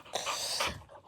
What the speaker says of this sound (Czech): Jak vidíte, už je docela velký ten pes.